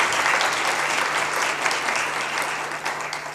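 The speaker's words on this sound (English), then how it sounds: "Another round of applause" An audience applauds steadily throughout, a dense, sustained wash of clapping from a crowd at a talk event, holding at an even level before easing slightly toward the end.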